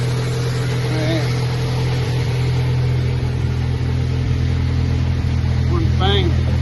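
An enduro race car's engine idles steadily and loudly up close, a smooth even rumble with no misses, while people talk over it and a brief squeal rises near the end.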